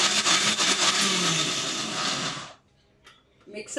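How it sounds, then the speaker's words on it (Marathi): A kitchen mixer grinder whirs steadily as it blends cream with turmeric and salt in its jar for homemade butter, the motor running loudly for a couple of seconds before cutting off, followed by faint clicks. "हळूहळू मिक्सर फिरवून घ्या"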